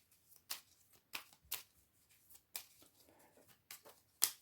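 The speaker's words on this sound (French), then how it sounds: "on pioche déjà nos 5 cartes" Playing cards drawn one by one from a deck for a tabletop game, giving several short crisp papery snaps and slides in an irregular rhythm, close and fairly quiet, with no talking.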